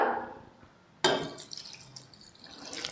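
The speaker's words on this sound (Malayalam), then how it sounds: "ഇനി ഇത് അരച്ചെടുക്കാൻ പാകത്തിൽ കുറച്ച് വെള്ളം കൂടി നമുക്ക് ഒഴിച്ചു കൊടുക്കാം" Water poured into a mixer-grinder jar holding chopped cucumber, raw banana and small onions for a curry paste, a brief trickle that stops, then a louder splashing pour with dripping, close and alone.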